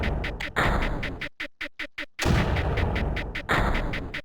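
Mortar fire in the strategy video game Creeper World comes as a series of sharp synthetic booming shots, several rapid bursts with short gaps between them, loud and without speech.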